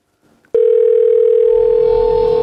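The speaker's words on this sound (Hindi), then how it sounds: "थैंक गॉड रिंग हो रहा है।" A telephone ringback tone on an outgoing call, a steady loud continuous tone that starts abruptly after a brief faint sound and holds unbroken.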